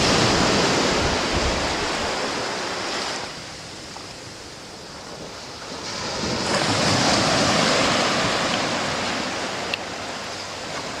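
Waves wash onto a sandy beach at dawn, a broad surf roar that swells, eases and swells again, mixed with light wind across the microphone.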